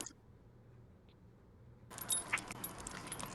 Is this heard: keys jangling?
yes